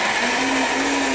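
A blender whirs steadily at high speed, loud and continuous, blending cooked beetroot with maple syrup and vanilla extract.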